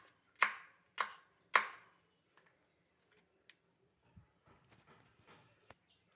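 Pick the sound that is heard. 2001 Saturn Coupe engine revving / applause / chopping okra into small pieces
chopping okra into small pieces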